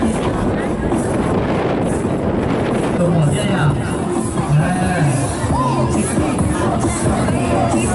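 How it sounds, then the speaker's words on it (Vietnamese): Strong wind gusts hard at an outdoor Hmong New Year festival in the Quảng region in late autumn, a continuous loud roar buffeting the microphone under crowd chatter and voices. "Gió rất là mạnh và gió rất là thổi rất mạnh ở xứ Quảng này."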